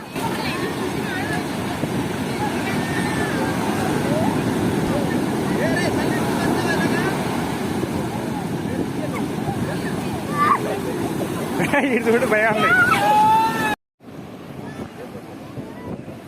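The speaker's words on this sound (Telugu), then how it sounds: "మొదటి కెరటాలు అయితే చాలా పెద్ద పెద్దగా ఉన్నాయి ఇక్కడ" Broadband roar of large sea waves breaking continuously on a beach at Konaseema, loud and wind-buffeted, with voices and children's chatter mixed in before an abrupt brief dropout near the end.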